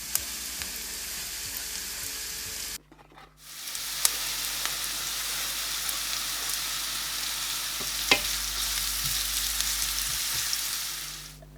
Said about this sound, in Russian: Несколько зубчиков очищенного чеснока измельчаем ножом и отправляем вслед за луком на сковородку